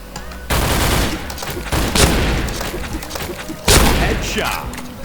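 Shotgun blasts in the Point Blank shooter game, loud booming reports at the start and again near the end with game noise between, under a voice talking.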